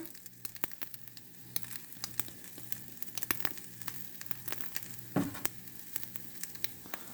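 Stuffed peanut butter and jelly French toast frying in a pan, with a quiet, steady sizzle and scattered crackling pops, plus a soft thud midway, close and alone without talking.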